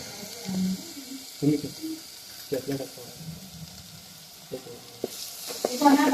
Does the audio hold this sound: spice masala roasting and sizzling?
yes